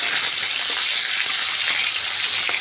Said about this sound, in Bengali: তেজপাতা দিয়ে একটা পেঁয়াজ দিয়েছি পেঁয়াজের একটু নাড়বো